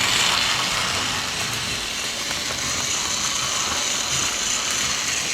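A Plarail Belle TS-08 toy train from Thomas & Friends runs along its track, giving off a continuous, even whirring and ratcheting of small gears. It is close and steady throughout, with no voices.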